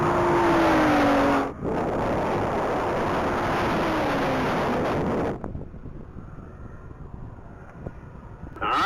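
A race car at a top-speed mile event roars past loud and close with wind buffeting the microphone, then the engine note drops away abruptly, leaving quieter distant rumble and outdoor ambience.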